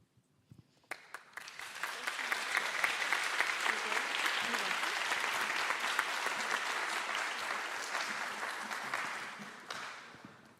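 An audience at a public forum session applauds a presenting group: clapping starts sparsely, swells within two seconds into a full, dense round of many hands, holds steady, then tapers off near the end.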